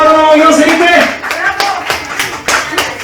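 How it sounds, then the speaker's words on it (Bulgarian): Applause for a team at a children's party game, a short burst of close hand clapping that trails off as a voice speaks over it. "аплодисменти за отбора на омагьосаните"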